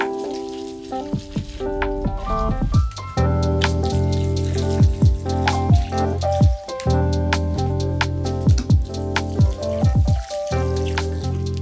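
Garden plants being watered in, water splashing and pattering continuously onto leaves and soil close by, with a steady musical trickle and occasional louder splashes, no talking.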